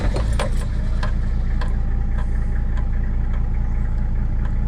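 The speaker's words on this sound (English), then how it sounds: "So I might have to start the ute up." A Toyota Landcruiser ute's engine running at a steady idle close by, a constant low rumble with a light rhythmic ticking, some clicks near the start.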